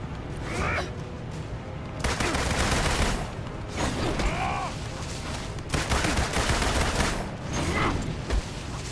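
Gunfire from a third-person action game, Marvel's Avengers, with loud bursts of rapid shots in several clusters separated by brief lulls, mixed with whooshing effects and game sounds.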